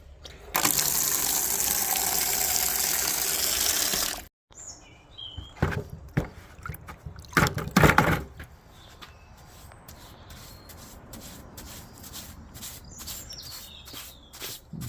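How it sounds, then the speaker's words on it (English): Water sprayed from a hose onto the mortar lines of a brick wall before repointing, a loud steady gush for about four seconds, then patchy splashes and drips, with birds chirping faintly outdoors. "Just wetting the mortar lines just so it kills the suction when I put the mortar into it."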